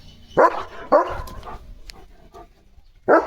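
A dog barks three times nearby: two sharp barks close together, a pause, then one more.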